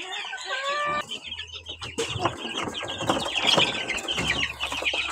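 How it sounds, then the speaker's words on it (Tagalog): Chickens and young cockerels in a barn range, with close, busy clucking and squawks that layer into a dense flock chatter, plus a brief crow-like call near the start, and no talking. "Tira nga atong mga cockerels, mga kasayang manok"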